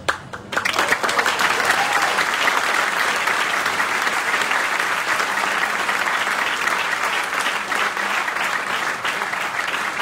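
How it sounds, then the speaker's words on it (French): Sustained, dense applause from a large crowd at a political rally in Lyon, starting abruptly and holding steady and loud for about ten seconds. "Je vous remercie d'applaudir le bienheureux Frédéric Ozanam"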